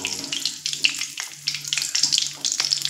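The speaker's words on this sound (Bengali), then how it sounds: "ফোড়নটা একটু ভাজা হচ্ছে" Black cumin seeds and green chillies fry in hot oil in a pan for a spicy ridge gourd and poppy seed dish, giving a steady close crackling sizzle with small spits and pops throughout.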